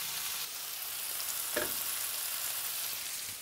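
Steady, hissy sizzling of frying food in a steel pan with sunflower oil, continuous and fairly close, with one brief scrape or stir partway through and no talking.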